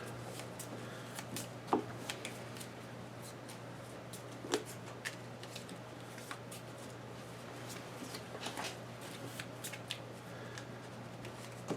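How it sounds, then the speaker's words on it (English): Location card decks for the Pathfinder Adventure Card Game are shuffled on a table in quick soft riffles and taps, with several sharper snaps of cards standing out over a faint steady hum. "we'll give each location just a quick little shuffle"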